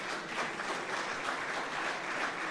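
Applause for the prefect at a Paris-Nice 2025 press conference, a soft, distant wash of many hands clapping that stays steady and continuous without a clear peak.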